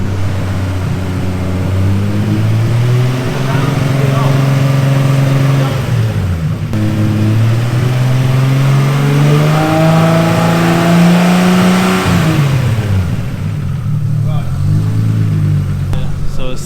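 Nissan Skyline engine with a faulty Accusump valve running loud and close, rising and falling through several revs over sustained idle, with people talking nearby.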